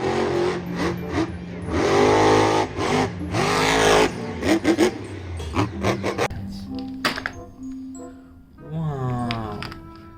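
A cartoon red race car, McQueen, revving and zooming in a kids' animated show, loud engine sweeps and tire squeals rising and falling, followed by squeaky character voices and music-like tones.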